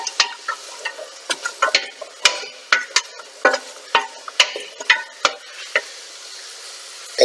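A spoon stirs chunky carrots in a pot of yellow split pea soup with ham, each stroke a sharp scrape or knock against the pot in an irregular rhythm, with a soft sizzle beneath and quiet gaps between strokes.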